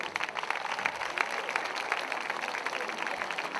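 An outdoor audience in a town piazza at a Miss Bella di Marca pageant applauds steadily, a dense, continuous patter of many hands at moderate distance.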